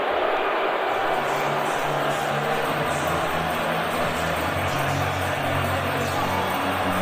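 Hockey crowd at Rogers Place arena during an NHL playoff game between the Vegas Golden Knights and Edmonton Oilers, a broad, steady wash of noise filling the arena from a distance, under the voice of a commentator.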